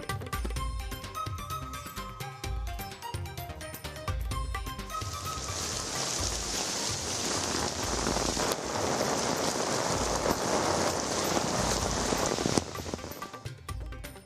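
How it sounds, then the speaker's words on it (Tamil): Steady rain falls across Chennai and its suburbs, a dense continuous hiss of drops on surfaces that swells and holds loud through the middle before easing slightly at the end, with no voices. "சென்னை மற்றும் புறநகர் பகுதிகளில் இரவு முதலே பரவலாக மழை."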